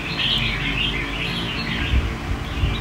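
Pigeons call continuously and close by, with a steady layer of chirps and tweets over low background rumble and no voices.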